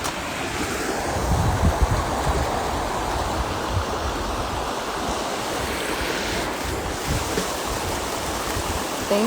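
Waterfall: a steady, loud, broadband roar of rushing water lasting throughout with no breaks, close by, with some wind buffeting and no voices.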